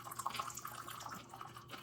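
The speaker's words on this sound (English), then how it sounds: "I got my apple cider and I wanted to show you a real nice pour." Apple cider being poured into a glass, a faint, soft trickle and splash of liquid lasting under two seconds.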